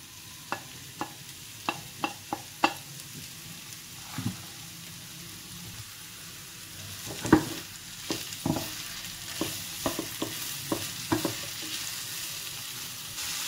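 Cucumber stir-frying in a pan with capsicum: a low sizzle under a run of sharp spatula clicks and scrapes against the pan, irregular and close, with no talking.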